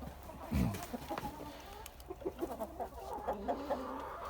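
Chickens cluck softly in short, scattered bursts, with a few higher calls mixed in over a low background hum.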